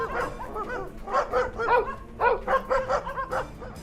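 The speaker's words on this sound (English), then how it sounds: "The dogs catch wind of this backyard ghost parade. They go full-on freak-out mode, barking like there's no tomorrow." Several dogs bark excitedly in a backyard at night, a fast run of close, overlapping yips and barks with brief whimpers, loud and continuous with no talking.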